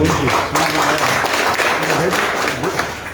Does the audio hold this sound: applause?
yes